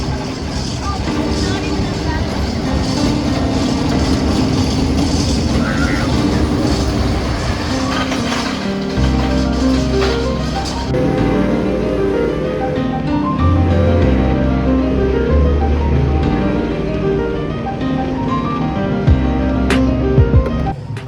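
Prowler wooden roller coaster at Worlds of Fun heard from the train at night, a loud continuous rumble of wheels on track with rattling clatter and brief squeals, and riders' voices mixed in.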